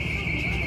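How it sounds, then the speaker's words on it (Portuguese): A steady electronic alarm tone from a Volkswagen Golf sounds continuously and fairly loud, with no pauses across the short stretch. "Esqueceu de desligar o alarme."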